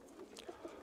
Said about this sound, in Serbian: Ovo je golub isto od Mirka Kolarevića.